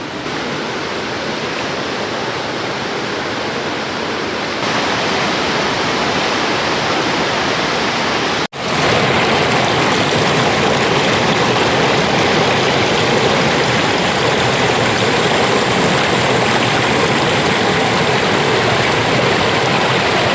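A waterfall and flowing stream inside a cave, a loud continuous roar of rushing water filling the whole stretch, with one short dropout midway.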